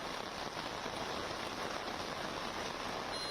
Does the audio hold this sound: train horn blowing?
no